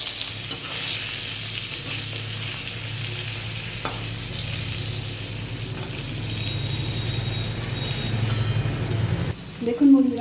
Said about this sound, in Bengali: তেল গরম হয়ে গেছে, এবার পটলটা এর মধ্যে দিয়ে দেবো।